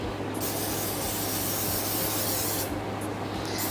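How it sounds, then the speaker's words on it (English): Acrylic sealer sprayed from a can over acrylic paint in a well-lit room, a steady, close, continuous hiss lasting a few seconds without pause, with no voices. "I'm using the acrylic sealer"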